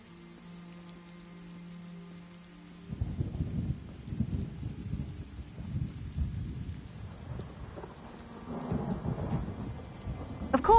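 Steady rainfall and rolling thunder fill a rainy town scene in the video game Elder Scrolls Online, a low droning hum giving way to continuous rain hiss with deep rumbles swelling throughout, no voices.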